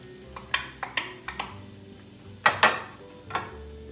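Vegetables softening in a cast iron pot over medium heat, with a series of sharp clinks and scrapes from a utensil against the pot, two louder knocks in the middle, over a faint low background.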